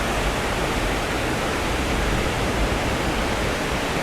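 Water rushes over a spillway in a dense, steady roar, loud and close, with no letup and no other sounds.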